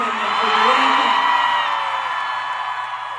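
A huge concert crowd screams and whoops in a sustained, loud roar, with individual yells and high cheers rising out of the dense wall of voices.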